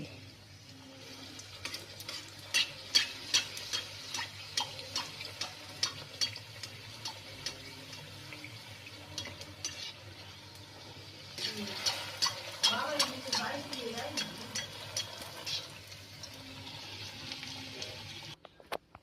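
Fuchka puris frying in hot oil, a low bubbling sizzle with repeated clinks and scrapes of a utensil, growing busier midway before easing off.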